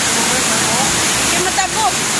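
Strong floodwater rushes loudly down the Piñan river, a close, continuous roaring torrent with sloshing surges, while people talk over it.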